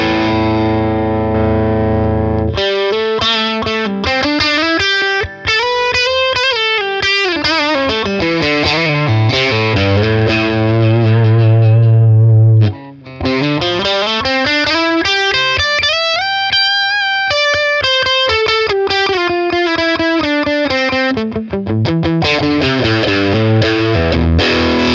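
A distorted electric guitar plays through the lead channel of a BOSS Nextone Stage amp, with a thick, saturated lead line of bending and sliding notes, loud and continuous with a few short pauses.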